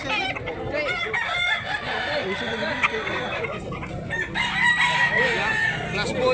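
Boston Sweater gamefowl roosters crow loudly and repeatedly at a busy gamefowl sale in Tabunok, Talisay, Cebu, with clucking and people talking in the background throughout.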